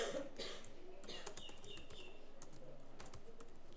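Keys clatter in a quick, uneven run as a name is typed on a computer keyboard, light close taps continuing steadily at low volume with faint chirping in the background.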